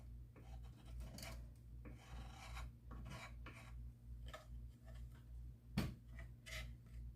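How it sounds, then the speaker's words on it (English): Dripped encaustic wax being scraped down off the edges of a painting, a close, dry rasping scrape repeated in short strokes with a sharper scratch near the end, no voice. "these edges that you see all the drippies forming on and everything, you can scrape them down just like this"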